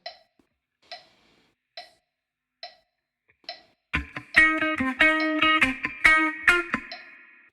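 Electric guitar with effects plays a bar from a song: five evenly spaced count-in clicks, then a loud, syncopated run of bright plucked chords and dead-note chucks, alone.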